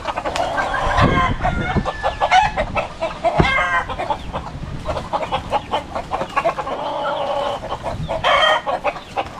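Chickens clucking and a rooster crowing close by, busy overlapping calls in irregular bursts that carry on throughout with no speech.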